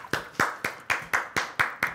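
Eight slow, evenly spaced hand claps ring out close by during a live TV shopping broadcast about braised monkfish, with no talking over them.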